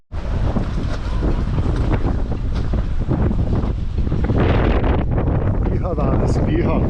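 Strong wind gusts buffet a sailboat lying at anchor, a loud roaring rush with heavy microphone buffeting and a faint creak near the end.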